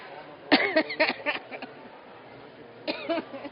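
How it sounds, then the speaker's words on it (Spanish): A burst of several close coughs, then a pause and another short run of coughing. "No se quiere contagiar de mi tos."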